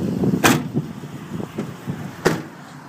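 Large doors on a 2012 Ford E350 passenger van open with two sharp, close clunks about two seconds apart, over faint background rumble.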